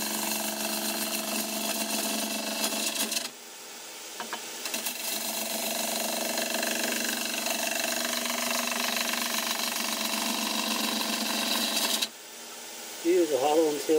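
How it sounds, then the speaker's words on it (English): Steady, harsh scraping drone of a ball gouge hollowing yew end grain on a spinning wood lathe, close and loud with brief pauses where the tool lifts off, and a voice speaking during a short break. "putting right into the end grain with a ball gouge."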